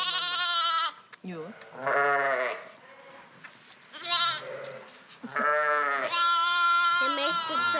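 A newborn lamb at a sheep farm bleats loudly and close by for its mother, several long wavering calls with short pauses between them, and a person briefly speaks once among them.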